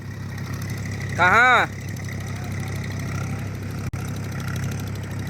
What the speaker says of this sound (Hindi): ये देखो एक ट्रैक्टर चल रहा है